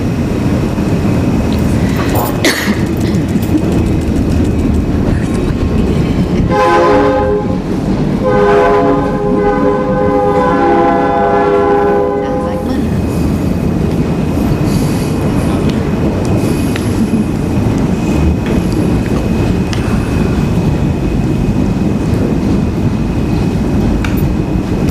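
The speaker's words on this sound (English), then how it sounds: "Let's let the Okay. train go by." A train passes close by during a city council meeting in Lebanon, Oregon, with loud rumbling and rail noise throughout and a long sustained horn blast sounding partway through, drowning out the room.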